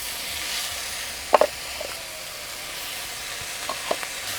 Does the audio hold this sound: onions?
yes